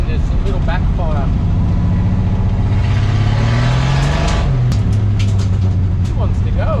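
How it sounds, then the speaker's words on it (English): Valiant 225 slant six engine revving up and down with rising and falling pitch and a sharp little backfire pop, loud and close, with a voice talking over it. "Build the revs up, I can actually hear that cylinder wanting to come in. There's a little backfire."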